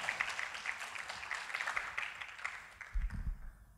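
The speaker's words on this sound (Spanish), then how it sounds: "Dele un aplauso al Señor." A church congregation applauding, a dense wash of clapping that holds steady and then fades, with a voice briefly rising underneath at the end.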